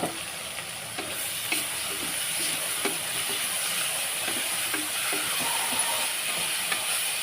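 Ginger garlic paste sizzles and hisses steadily in hot oil while being sautéed and stirred for a mutton onion curry, a continuous close frying sound with occasional soft scrapes of the spoon and no talking.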